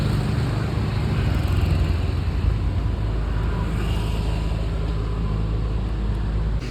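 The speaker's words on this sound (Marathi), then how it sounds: "आणली आपली गाडी, निघालो आपण आपल्या घरी" A car pulling away and driving home along a road, heard as a continuous, loud low engine and road rumble without speech.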